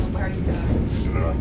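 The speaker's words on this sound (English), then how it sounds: "This is the dining carriage on the Trans-Mongolian Railway." Inside the dining carriage of a moving Trans-Mongolian Railway train, a steady low rumble of the wheels and carriage runs under a voice.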